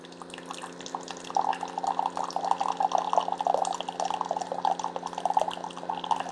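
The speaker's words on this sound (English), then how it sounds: "I'm going to brew some water through here." A Keurig coffee maker brews water, not in high altitude mode, giving a steady gurgling, trickling flow with constant small drips over a low mechanical hum, close and continuous with no speech.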